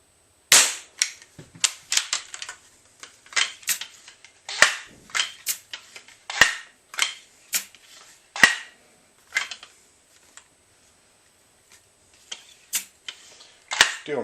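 A Benjamin 392 pump air rifle fires again and again in sharp, crisp cracks. The shots come irregularly across the stretch, with quieter clicks and pumping between some of them and near silence toward the end.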